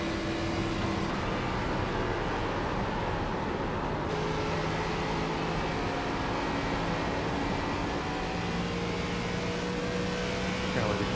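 Race car engine in the iRacing ARCA game at Nashville, held at full throttle as a loud, steady drone with a gently rising pitch through the whole stretch.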